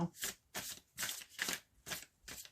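Oracle cards riffled in six quick bursts for a tarot-style reading, each crisp papery shuffle separated by short pauses, close and fairly soft with no talk.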